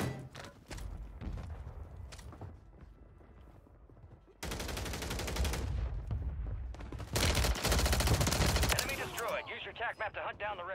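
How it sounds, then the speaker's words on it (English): Bursts of automatic gunfire from a broken AR rifle in Call of Duty Warzone on Rebirth Island, with sustained loud fusillades and rapid shots dominating the second half of the clip. "He was getting shot at."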